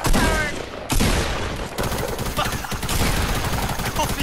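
Rapid SMG gunfire bursts in Fortnite, loud and dense, with short pauses between volleys and other game effects mixed in.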